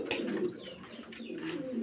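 Fancy pigeons coo at a pigeon farm in Faridpur, a close, continuous low burbling with overlapping calls throughout.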